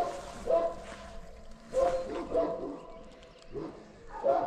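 A dog barks in four separate bursts spaced about a second apart, fairly close and moderately loud, with quiet gaps between them.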